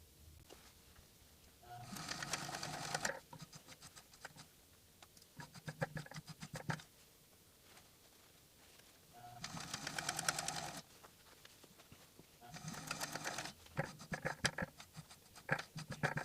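A sewing machine stitches along the side of a hat being shortened, running in three separate bursts of quick mechanical chatter with quiet pauses between them, close by.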